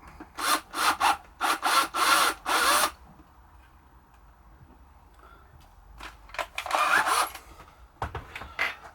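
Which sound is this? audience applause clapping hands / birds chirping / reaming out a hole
reaming out a hole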